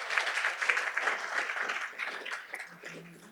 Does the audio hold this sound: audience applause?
yes